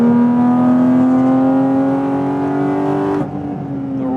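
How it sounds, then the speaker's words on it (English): Porsche Cayman GT4 RS flat-six revving high and loud, a sustained rising whine that holds steady for about three seconds, then drops sharply and settles back to a lower engine drone. "the resonance of that engine, it's so high-pitched"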